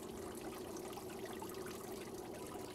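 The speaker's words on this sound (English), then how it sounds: "Increase the water level in the tank to just below the top of the insert." Water pours steadily into the tank of a Jensorter Model BCM fish egg counter at a fish hatchery, a continuous rushing, trickling wash at moderate level with no talking.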